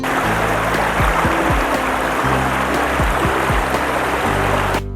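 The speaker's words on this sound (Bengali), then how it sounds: "এখানে ডুলুং নদী বয়ে যাচ্ছে।" The Dulung river flowing near Chilkigarh in Jhargram, a steady, loud wash of rushing water with low rumbling underneath, continuous and unbroken throughout.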